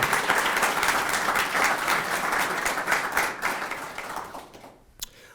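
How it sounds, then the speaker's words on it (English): Big round of applause from the audience at a university athletics event naming a new men's basketball head coach, dense sustained clapping that fades out near the end, with a final lone clap. "Can we give our alum just a big round of applause?"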